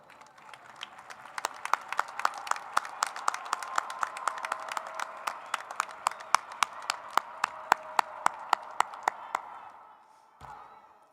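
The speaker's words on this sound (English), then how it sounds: "Seniors, let's take a moment now to turn and give a round of applause for all of those who've supported you" Graduating seniors at the 2024 Centennial High School graduation ceremony applaud their supporters: steady crowd clapping with sharp, regularly spaced claps standing out, carrying on for about ten seconds before fading out near the end.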